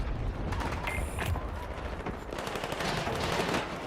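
Rapid automatic gunfire in a video game, dense bursts of shots rattling on continuously with a brief mechanical click early on, fairly loud and unbroken for several seconds, no voices.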